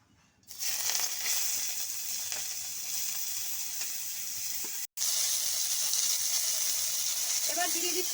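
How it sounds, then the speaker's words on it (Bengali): Chopped onions hit hot oil for a capsicum chop filling, bursting into a loud, steady sizzle that holds for several seconds, breaks off for an instant, then resumes just as strongly with light stirring. "কুচানো পেঁয়াজ দিয়ে দিচ্ছি প্রথমেই।"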